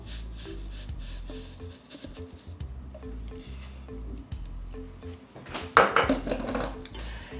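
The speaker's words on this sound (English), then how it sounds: "We're gonna stir in the grits" Pot and utensil clatter while one cup of grits is stirred into boiling liquid on a stove, with a steady scraping, clinking rhythm and a louder burst of metal knocks near the end.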